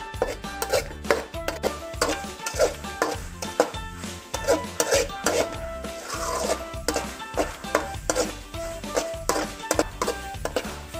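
Taro leaf chutney simmers in a pan while a spoon stirs and scrapes against the metal in an uneven repeated rhythm, the knocks close and clear over a low bubbling sizzle.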